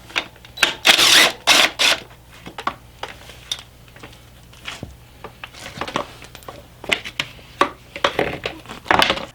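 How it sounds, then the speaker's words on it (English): Metal bolts being removed from the chain guard of a Suzuki DR 650 motorcycle produce a series of sharp clicks, rattles and tool clatter in irregular bursts, close and fairly loud, with no talking. "First thing I'm going to do here is pop off this chain guard."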